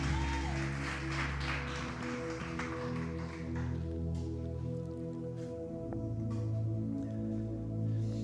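A church congregation claps together during a worship service, a dense wash of applause over sustained organ-like music for the first few seconds, then fading as the music carries on alone.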